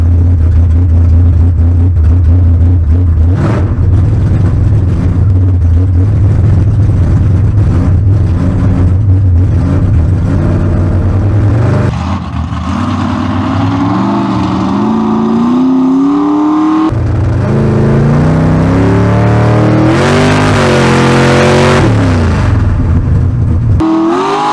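A big block V8 in a car strapped to a street dyno revs hard and loud in first gear, climbing in pitch, dropping briefly, then roaring up through another sustained pull.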